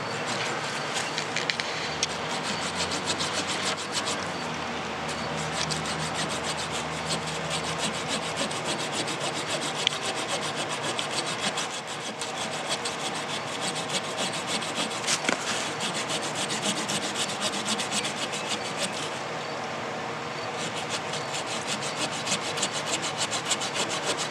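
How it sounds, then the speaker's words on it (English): A Victorinox pocket knife's small saw blade cutting through wood gives steady, continuous rasping strokes, close and fairly loud, running throughout with no talk. "try to cut it right here to give myself a little bit of working play with the blade"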